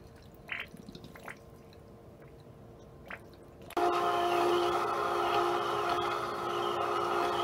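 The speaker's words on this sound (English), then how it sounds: "it'll start to kind of shoot and do bits and spurts here until the motor is starting to run dry" A Wayne WaterBug water pump sputters as it starts running dry, giving a few faint splashy spurts and drips before the motor kicks in with a loud, steady whirring hum for the rest of the stretch.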